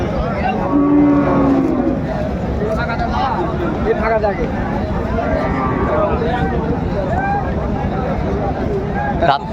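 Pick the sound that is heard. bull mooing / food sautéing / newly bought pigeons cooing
bull mooing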